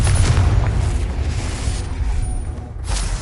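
A Confringo fire spell explodes in Hogwarts Legacy, a loud, deep boom with a rumbling, crackling tail that fades over a few seconds.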